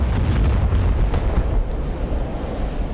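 A 1,000-pound bomb explodes and sinks a ship in a World War II naval video game, heard as a loud, deep rumbling blast that roars and slowly fades, with no speech.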